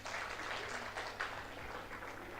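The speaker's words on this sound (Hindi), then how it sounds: "जिसका जन्मदिन इस महीने में आता है वो अपने लिए तालियां बजाएं।" Faint, scattered clapping from participants in an indoor staff training session, a quiet patter of a few hands with some sharper individual claps.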